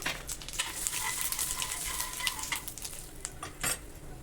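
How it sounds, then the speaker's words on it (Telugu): Cloves, bay leaf, cardamom and shahjeera frying in a pan: a steady, soft sizzle with scattered clicks and scrapes of stirring, close and fairly quiet. "1 టీ స్పూన్ షాజీరా యాడ్ చేసుకొని చక్కగా ఫ్రై చేసుకోండి"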